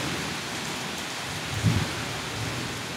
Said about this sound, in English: This rain is really nice too.